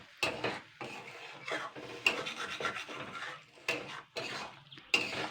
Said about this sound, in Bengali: অল্প জল দিয়ে নাড়াচাড়া করে নেব আগে